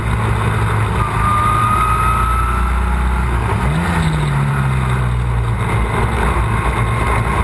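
Historic Formula Ford race cars lapping the Croft circuit in 2014, a steady loud engine drone running throughout, with one car's rising then falling pitch sweeping past close by midway.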